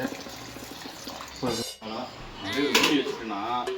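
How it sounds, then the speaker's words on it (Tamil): Water is poured lightly into a pot of kuzhambu curry with curry leaves in a home kitchen, making brief splashing bursts close by between stretches of talking. "லைட்டாக தண்ணி ஊற்றிட்டு"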